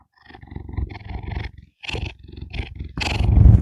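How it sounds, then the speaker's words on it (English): A house cat purrs and rumbles right up against a microphone in a few close, loud bursts with short pauses between them. The sound grows heavier toward the end, taking on a growl-like quality, and no one speaks over it. "Here's some purrs for you."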